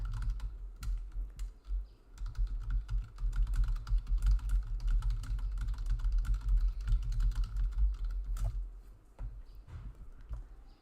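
Rapid, continuous clicking of typing on a computer keyboard, close and fairly loud over a low rumbling background, with a brief pause near the start and the pace slowing toward the end.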